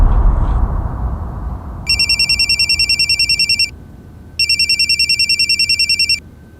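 A telephone rings in two long electronic trilling bursts, loud and close, separated by a short pause, over a low background hum.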